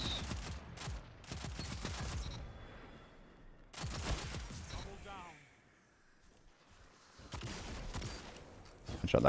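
Bursts of gunfire in Ace of Spades, three clusters of rapid shots separated by quieter gaps, fairly close and loud, with someone talking between volleys.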